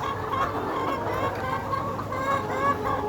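Many layer hens of a Sebastar cross breed cluck and murmur continuously nearby, a dense overlapping chorus of short clucks at steady loudness.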